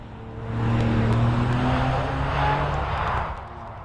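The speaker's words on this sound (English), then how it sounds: "there is a Porsche that's just leaving." A Porsche pulls away from a car meet, its engine note swelling to a steady, fairly loud drone before easing off, with no talk over it.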